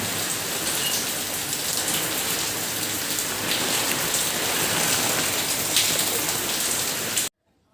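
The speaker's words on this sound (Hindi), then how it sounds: "तो यहाँ होने लगी थी बहुत तेज़ बारिश" Very heavy rain pours down in a dense, steady roar of drops hitting surfaces, loud and unbroken for several seconds before cutting off abruptly, no voices.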